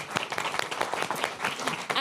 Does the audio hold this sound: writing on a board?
no